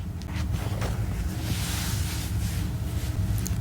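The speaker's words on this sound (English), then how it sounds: "heater just turned on, so sorry if you can hear that in the background." A steady, broadband whooshing rumble runs continuously, like a home heater blowing air, with no speech over it.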